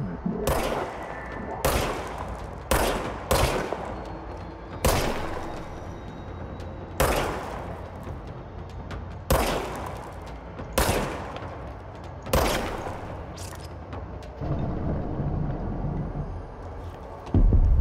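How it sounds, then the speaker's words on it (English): Repeated gunshots in the video game Control, sharp bursts of fire spaced every second or two over a steady low rumble of game ambience, loud and close. "Okay, now I have the gun to shoot."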